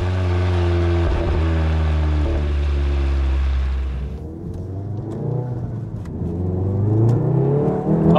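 A manual Stage 2 MK7.5 Volkswagen Golf R engine warming up idles with a deep steady rumble, then revs up and settles, the pitch rising and falling close by.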